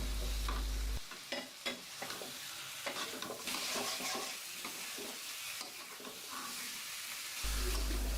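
Stinging catfish fry in spiced oil while a spoon stirs and scrapes them, a sputtering sizzle broken by clicks of the utensil against the pan, close and without talk.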